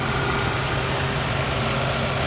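A 2007 Nissan X-Trail T30 with a 2.0 engine and manual gearbox idles steadily under the open hood, a low, even hum that stays constant and fairly quiet throughout.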